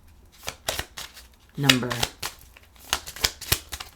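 A deck of angel cards is shuffled by hand, producing quick riffles and flicks with a brief burst of a voice partway through.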